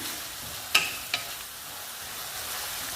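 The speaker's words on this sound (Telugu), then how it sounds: "కరివేపాకు, అన్ని రకాల ముక్కలు, కరివేపాకు అన్నీ ఫ్రై చేసుకున్నాము" Curry leaves and chopped vegetable pieces frying in oil, a quiet, even sizzle with two brief crackles early on, then a steady hiss.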